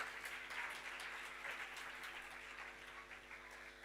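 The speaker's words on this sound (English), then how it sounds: "Please cheer for him, please clap for him." Steady applause from an audience at a book launch as the author is introduced, a dense, continuous patter of clapping that holds level throughout without talk over it.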